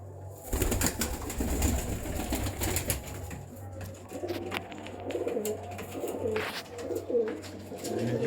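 Pigeons of a bred fancy line coo repeatedly at close range in a loft, low throaty calls rolling over one another with a few wing flaps and clicks, no talk.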